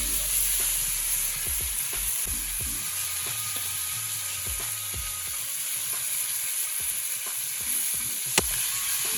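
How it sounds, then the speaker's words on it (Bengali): Katla fish frying in hot oil in a pan, a steady dense sizzle with crackling pops and a few sharp spits throughout, close and continuous with no voices. "কাতলা মাছ রান্না হচ্ছে দেখবেন ভাজা হয়ে গেছে প্রায়"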